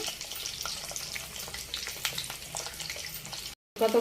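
Drumstick pieces fry in oil in a thick, heavy kadai, giving a steady, close crackling sizzle that runs almost unbroken, cuts out in a short silence and then resumes.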